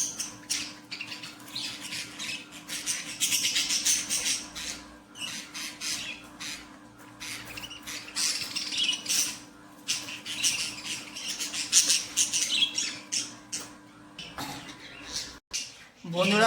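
Birds squawk in sharp, scattered bursts as they are caught from a coop, with rustling and a person speaking intermittently close by.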